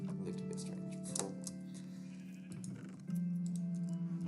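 Sheep at a video game sheep farm bleat repeatedly, with several overlapping nasal bleats rising and falling over soft background sound, the last one louder and sustained.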